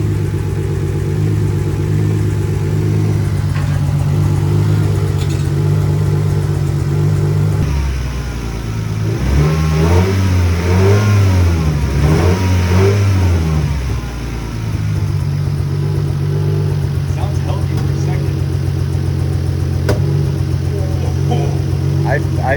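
Lexus SC300 engine with a random misfire, idling steadily before being revved in uneven surges mid-clip and settling back to a rough idle, with voices talking over it.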